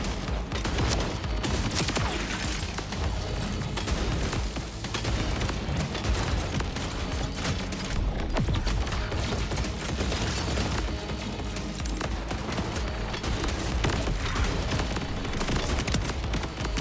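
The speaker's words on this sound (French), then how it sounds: "J'aime beaucoup hein, mon fusil d'assaut là." Sustained automatic assault rifle fire from the Borderlands 4 video game, dense and loud, with rapid bursts and booming impacts running continuously throughout without pause.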